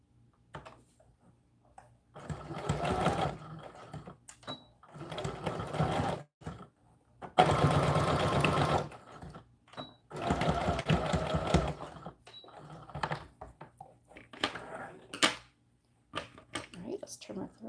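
Sewing machine stitching a pleat on an American Girl doll dress, running in several short bursts of rapid mechanical whirring separated by pauses, with small clicks and handling noises between runs.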